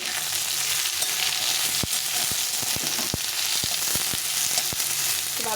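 Thinly sliced tender eggplant frying in oil with potatoes, a loud, close, steady sizzle broken by repeated sharp knocks and scrapes of a spatula against the pan.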